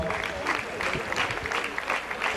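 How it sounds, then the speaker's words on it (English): An audience claps warmly in a hall at UMass Arab Night 2004 to welcome the Arab Student Club dance troupe. The dense applause runs steadily throughout, with some crowd noise mixed in. "Let's welcome them on with a big round of applause."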